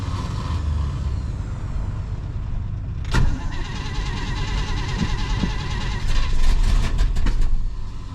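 A cold-blooded 1967 Pontiac Grand Prix convertible engine runs rough and steady just after starting, with a sharp bang near the middle and the revs rising toward the end, close and loud.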